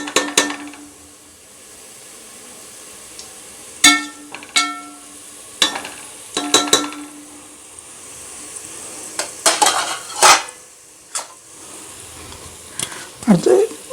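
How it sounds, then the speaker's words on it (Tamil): Onions fry in a pot for biryani, while sharp clanks and scrapes of a spoon stirring break in at intervals over a low sizzle and occasional background voice. "லேசாக கிளறி விட்டுருக்கோம்."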